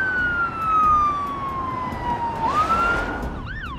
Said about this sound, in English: Then expect the siren to go back on and the vehicle to come past.